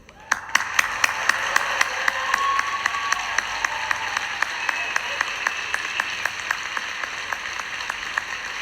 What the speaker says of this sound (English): let us give them a chance to show that with a heartfelt round of applause